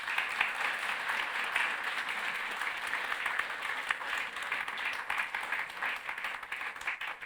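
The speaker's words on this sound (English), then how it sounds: "Round of applause." Warm audience applause after a tech conference talk on serverless data solutions, a thick continuous patter of many hands that holds steady, then thins toward the end.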